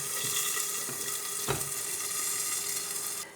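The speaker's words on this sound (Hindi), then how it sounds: "इसे तकरीबन 4 से 5 मिनट के लिए हमने हाफ आंच पे फ्राई करना है, क्योंकि टमाटर अच्छे तरीके से नरम हो जाए" Tomatoes frying in a pan on half heat, a steady close sizzle and hiss with a few soft clicks and stirring knocks, continuous throughout.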